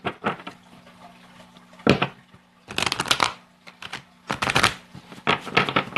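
A tarot card deck being shuffled by hand in several separate bursts of quick riffling and flicking, close and crisp, with quiet pauses between shuffles and no talk.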